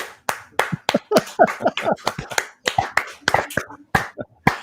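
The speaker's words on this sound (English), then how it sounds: "We have a studio audience here live that are clapping." Sharp, distinct hand claps in an irregular rhythm, close and loud, from a studio audience of two people rather than a crowd.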